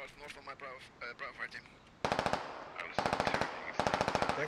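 A voice talks briefly before loud machine gun fire erupts in the tactical shooter Squad, coming as three rapid, evenly rattling bursts separated by short pauses.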